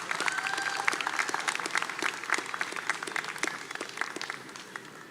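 A crowd at a summer college graduation ceremony claps steadily and loudly in a continuous round of applause, with no talk over it.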